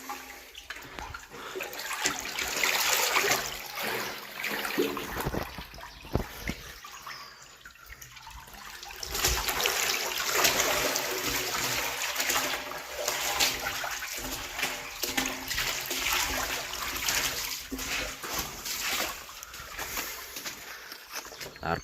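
Shallow water trickles and splashes through a culvert in a stream, a continuous watery wash that rises and falls, with someone talking now and then.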